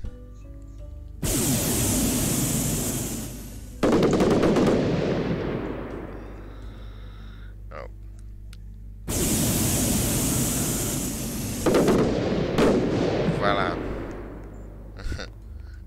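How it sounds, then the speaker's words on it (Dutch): Fireworks go off in the video game Lumber Tycoon 2: two long stretches of loud, booming blasts with hissing, crackling tails, separated by quieter fading pops and scattered sharp cracks. "En we gaan vuurwerk afsteken."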